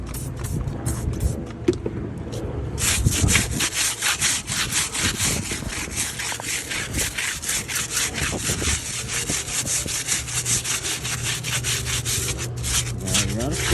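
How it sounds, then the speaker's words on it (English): A brush scrubbing a dirty Vogue tire, rapid, loud rhythmic back-and-forth rasping that starts a few seconds in and runs steadily to the end, with some low background rumble before it begins. "Gotta scrub a little bit."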